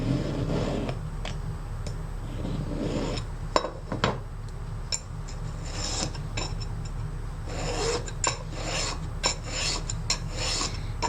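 Hand file rasping along the edge of a soldered overlay ring, repeated close scraping strokes in an uneven rhythm with occasional metallic taps.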